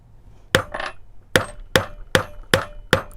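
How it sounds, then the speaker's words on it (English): Six sharp metallic taps of a hammer striking a thick metal stamping blank for a hand-stamped pendant, evenly spaced after a pause, each ringing briefly in a quiet room. "we want to like hammer into this one"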